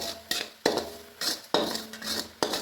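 A spoon scrapes and stirs around a pan of milk with sugar for kalakand milk sweet, in regular rhythmic strokes with light metallic clinks, close and clear, no talking.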